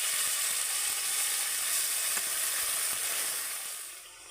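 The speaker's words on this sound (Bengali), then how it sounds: "সেই মশলাটা তেলের মধ্যে দিয়ে দেবো এইভাবে নেড়ে চেড়ে একটু তেলের মধ্যে ভেজে নেব" Ground spice paste frying in hot oil, a dense close sizzle with light stirring ticks that fades slightly toward the end, no one talking.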